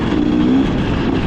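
A dirt bike engine, a 2025 KTM-style XCW 300 two-stroke fitted with a quiet exhaust insert, runs steadily at close range with a constant droning hum and no break.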